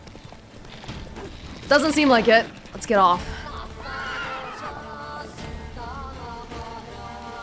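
Roach the horse in The Witcher 3 lets out two loud, shrill whinnies over a steady clip-clop of hooves on the ground, while someone talks through the rest of the clip.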